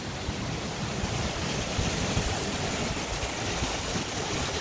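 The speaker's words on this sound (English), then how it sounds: "where the water that's coming out of Hazelwood Lake drains." Water draining out of Hazelwood Lake at the dam makes a steady, loud broadband rush that continues without a break.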